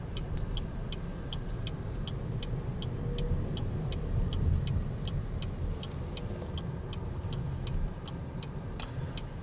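An SUV drives on suburban roads with a steady low engine and road rumble inside the cabin, and a regular ticking, like a turn signal, repeats above it throughout.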